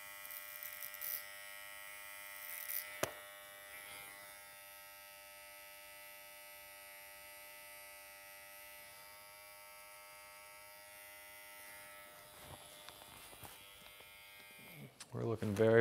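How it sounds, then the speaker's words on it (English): Hair trimmer run over a comb while cutting a tight fade, a steady close buzz that lasts throughout with brief handling knocks, and a voice talking faintly near the end. "Just a little trimmer over comb."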